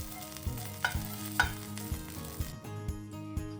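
Onion, bay leaf and chilies frying in hot oil for paneer tikka masala, a low sizzle with regular stirring knocks of a spoon against the pan, about one every half second, with no talk.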